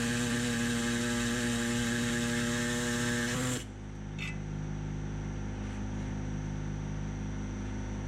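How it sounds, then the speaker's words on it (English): An air saw cutting off a rusted metal mount under a 2009 Mini R56 rear subframe, a loud high-pitched steady whine that stops abruptly after a few seconds and leaves a low workshop hum. "So I used the air saw just to cut the mount off."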